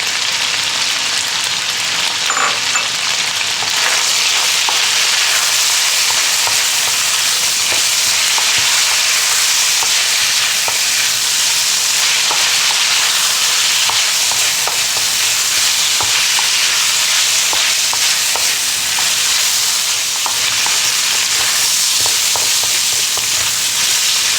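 Ginger, garlic and sliced onions fry loudly in a pan with a dense, unbroken sizzle and occasional stirring scrapes, close and steady throughout with no voices.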